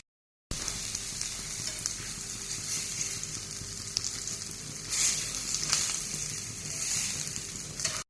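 Sausages frying in a pan, a steady close sizzle with a soft bubbling texture that swells briefly midway, alone with no talk.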